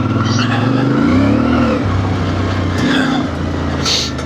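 CF Moto IBEX 450 single-cylinder motorcycle engine droning and revving at low RPM while riding off-road on dirt, loud and close with rising and falling pitch, a rider's voice speaking over it.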